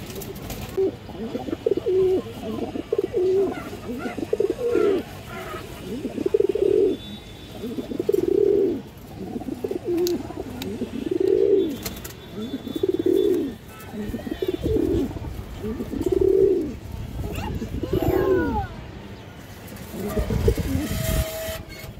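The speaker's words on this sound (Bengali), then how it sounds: "হাই কোয়ালিটির এক পেয়ার খাকি কবুতর দর্শক, লং রোডে পাল্লা ছাড়াছাড়ি করার জন্য খুবই ভালো হবে" A pair of khaki pigeons coo in a steady, repeating rhythm, each low throaty call close and clear, with faint background noise between the calls.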